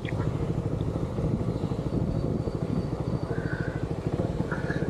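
A motorcycle engine idles steadily while warming up, a close, continuous low rumble with a fast pulsing beat that holds even throughout.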